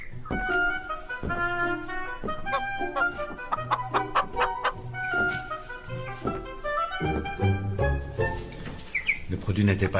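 A chicken clucks repeatedly at close range in short rhythmic bursts, with a faint voice underneath.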